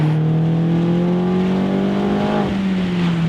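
A car engine with a loud, turned-up aftermarket exhaust revs steadily, its deep drone climbing gradually in pitch before dipping, close and continuous.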